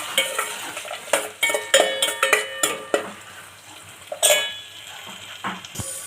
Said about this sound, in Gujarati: હવે આપણે આમાં મીઠું નાખીશું સ્વાદ પ્રમાણે। હવે હલાવી દઈશું।